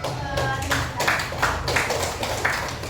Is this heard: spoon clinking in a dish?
no